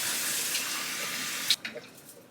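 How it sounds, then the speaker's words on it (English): Water running steadily from a bathroom tap for washing a dry-skinned face, a constant close hiss that cuts off abruptly, followed by a few small splashes and drips. "let me wet my face and then we can talk"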